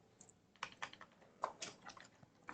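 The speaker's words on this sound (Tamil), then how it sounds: "சும்மா டைப் பண்ணுறேன்" Quiet, quick clicking of fingers typing on a computer keyboard while entering text into a Microsoft Word document, with irregular bursts of keystrokes and no talking.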